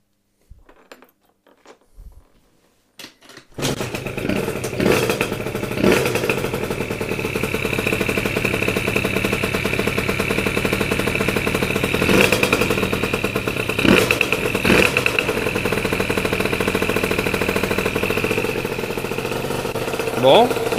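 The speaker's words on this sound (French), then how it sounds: "J'ai posé le kick dessus, et puis là ça va vraiment être le tout premier démarrage" A Booster Rocket scooter fitted with an Athena 70cc kit fires up on the kick for its first start. After a few clunks the small two-stroke engine catches and runs at a steady, buzzing idle with occasional revs.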